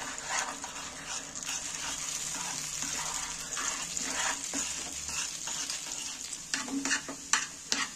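Beaten egg stirred in hot oil in a pan, a continuous soft sizzle with scraping stir strokes growing busier toward the end, no talking.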